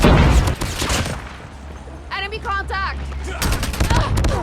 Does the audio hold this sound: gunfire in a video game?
yes